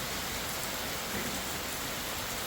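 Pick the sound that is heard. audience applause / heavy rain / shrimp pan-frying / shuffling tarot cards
heavy rain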